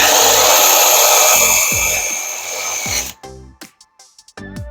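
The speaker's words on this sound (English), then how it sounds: "we're going to use our unibit to make these holes bigger" A power drill runs a unibit step bit to enlarge holes while modding a small-frame e-bike battery setup, a loud sustained whine for about three seconds, then several short bursts of drilling with pauses between.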